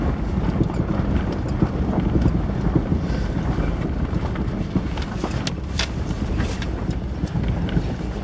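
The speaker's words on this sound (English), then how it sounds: "Seems like the rapids are picking up a little too" Rushing river rapids below rocky cliffs in a canyon, a continuous broad roar heard from nearby with wind buffeting the microphone.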